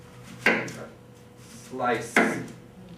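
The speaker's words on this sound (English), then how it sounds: "Take your knife and slice" A knife slices through the inside of a Halloween pumpkin being carved into a jack-o'-lantern, giving two distinct scraping cuts that rise and fade close by.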